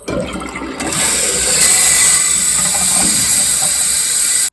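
A Kohler Wellworth toilet converted to a 2-inch flapper flush valve flushes close by, a loud continuous rushing and hissing of water that builds after the first second and holds steady to an abrupt end.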